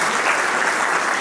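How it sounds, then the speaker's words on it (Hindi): Steady, dense applause from an audience at a college retirement party for a principal, following a musical performance; close and continuous through the whole short moment. "जोरदार तालियां इस प्रस्तुति के लिए।"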